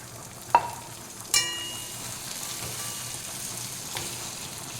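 A small tomato and green chili sizzle in a pan for a foli fish curry with potato and eggplant, a steady close hiss broken by a couple of ringing metal clinks from the utensil, with no talking.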